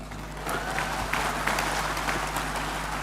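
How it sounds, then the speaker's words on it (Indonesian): Fairly faint, continuous applause from an audience at a formal speech, with scattered sharper claps over a low steady hum. "Mana tepuk tangannya?"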